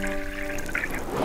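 Liquid pours steadily into a glass for about a second, a continuous trickling splash with no talking.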